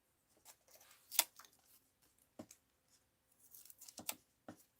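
Scissors cut through fabric for a rag doll's hair and hat, giving a few faint, separate snips spaced apart in a quiet room.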